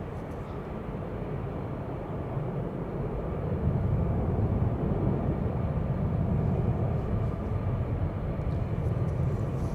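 A Delta Airbus A330neo departs Amsterdam Schiphol, its jet engines giving a deep, continuous roar that builds slightly and stays strong and near, with no talk over it.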